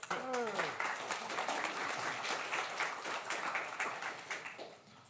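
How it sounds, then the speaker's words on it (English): A room of attendees claps in a fairly loud, even round of applause after a meeting presentation, the clapping running steadily and fading slightly toward the end, with a faint voice near the start. "Big round of applause."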